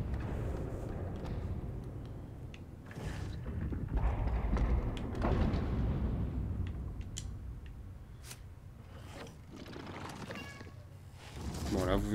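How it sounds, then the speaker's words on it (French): A cat meows a few times in a dark horror video game, short tonal cries near the end over low ambient rumble, scraping and scattered clanks, with someone talking. "d'entendre un chat miauler"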